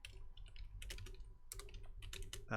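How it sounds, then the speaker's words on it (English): Rapid keystrokes clatter on a computer keyboard in quiet, close bursts with short pauses, as someone types out text alone. "You can probably hear me typing."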